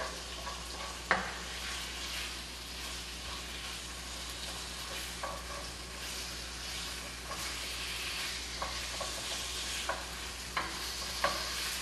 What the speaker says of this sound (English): That's why it's called stir fry.